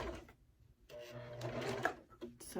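A sewing machine stitches a small snap-closure project in quiet short runs with brief pauses for pivoting, while a voice talks over it.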